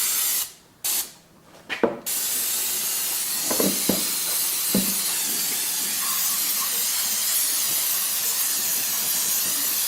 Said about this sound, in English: Spray out your grooves. Any debris out of there.